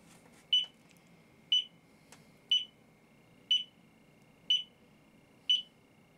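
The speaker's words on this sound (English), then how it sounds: "Whenever you arm it, it sits there and beeps for like 20 seconds." A cheap Smart Life home burglar alarm system beeps through its arming countdown: six short, identical beeps spaced exactly one second apart, fairly quiet, with no talking.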